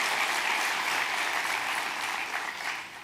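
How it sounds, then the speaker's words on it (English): An auditorium audience of women at a national summit applauding steadily, a dense wash of clapping heard alone throughout at a moderate distance. "Yeah, you deserve a clap."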